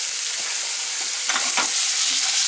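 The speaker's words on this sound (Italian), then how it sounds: "Nel frattempo la patata" Potato frying in a pan with butter, a loud continuous sizzle close by with brief stirring scrapes partway through, no voices.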